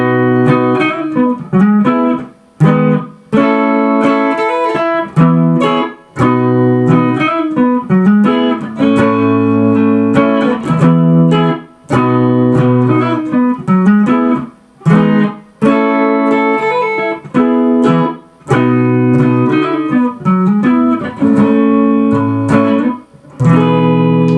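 Chord sequence strummed and picked on guitar, a long run of ringing chords and arpeggiated notes with brief pauses between phrases, close and fairly loud, no speech.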